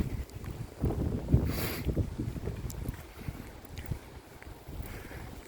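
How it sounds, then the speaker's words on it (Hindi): Cool wind gusts along an old railway route turned walkway and cycle path, a soft, rumbling rush of air buffeting the microphone, with faint scattered knocks and no voices. "ठंडी ठंडी हवा चल रही है।"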